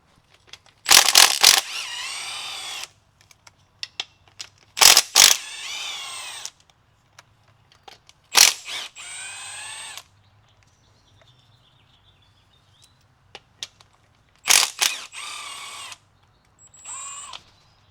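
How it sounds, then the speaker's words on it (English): An impact gun removing oil pan bolts on a 2012 Chevy Equinox, several short loud bursts of buzzing rattle separated by quiet gaps and faint clicks, close and with no talking. "I can use the gun right now on that side"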